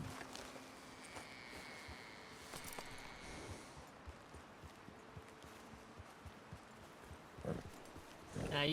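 Horse hooves clip-clopping at a walk, faint and fairly distant, with scattered soft knocks over a quiet outdoor background and a brief louder rustle near the end.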